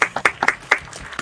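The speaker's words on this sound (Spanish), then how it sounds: "aplauso para Carané" A few scattered, separate hand claps from a small audience at an astrology show, irregular and fairly close, sparse rather than a full ovation.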